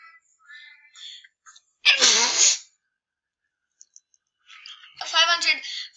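Two sharp sneezes burst out loud and close, one after the other, with faint clicking and quiet breathy sounds in the gaps.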